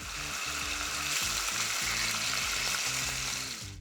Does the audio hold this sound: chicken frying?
yes